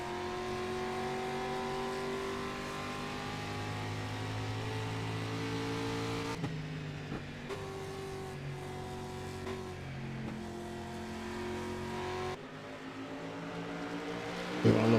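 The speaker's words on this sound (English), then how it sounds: "Rice is like he's trying to mount an attack here, trying to close that gap between him and the 93 there, Andy Kosilova." Street stock race cars in a sim racing game drone continuously, several engines layered at steady pitch with occasional gear shifts and lifts in throttle, with no talk over them.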